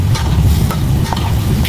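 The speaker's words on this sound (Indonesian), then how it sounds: "Kita tumis sampai bumbunya benar-benar matang" Spice paste with galangal and palm sugar sautéing in oil for Betawi ketupat sayur, a loud continuous sizzle and crackle under brisk stirring.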